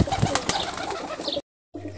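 A male Geribaj pigeon coos in low, muffled bursts against rough handling noise; a short full silence follows, then a steady low hum.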